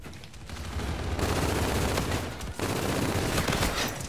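Machine guns and other automatic weapons firing in the Call of Duty: Infinite Warfare beta: loud, dense, continuous bursts of gunfire that fill the whole stretch, with a short dip partway through.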